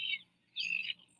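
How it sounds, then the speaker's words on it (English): A long-tailed tyrant, a small lowland bird, gives two close, clear chirping calls separated by a short pause, set against quiet surroundings. "like the long-tailed tyrant, a small lowland bird"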